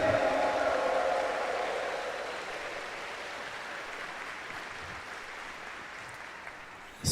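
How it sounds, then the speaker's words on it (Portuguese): A church congregation applauds during a Sunday evening Mass homily, a broad wash of clapping that starts full and gradually thins and fades over several seconds. "Uma salva de palmas para Ele."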